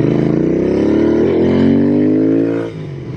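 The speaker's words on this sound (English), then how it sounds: "This is the Royal Enfield 650 Interceptor." A custom Royal Enfield Interceptor 650 motorcycle revs its engine up loud and near, the pitch climbing steadily and then dropping back as the throttle closes.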